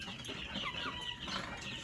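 Farm hens cluck and chatter steadily at moderate volume, with no one talking over them.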